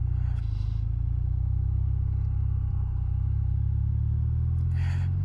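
A new motorcycle riding along a road, its steady low engine rumble droning continuously and fairly loud, with rushing wind noise layered on top.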